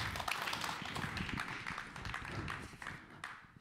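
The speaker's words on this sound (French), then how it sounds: "On l'applaudit encore bien fort" Applause from an audience at a thesis presentation contest final, a continuous dense patter of many hands clapping, moderately loud and fading slightly toward the end.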